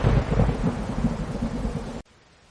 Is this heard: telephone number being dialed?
no